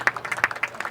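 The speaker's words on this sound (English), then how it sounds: "Appreciative crowd down beneath us, cheering on the three Marshfield players coming in" Brief burst of crowd applause at a boys' high school soccer game, scattered hand claps from spectators below, quick and lively for under a second.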